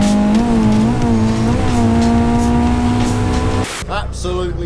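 A Honda CRX with a B16 engine revs hard and loud, its pitch climbing steadily into VTEC for several seconds before the throttle suddenly cuts off and the engine drops back.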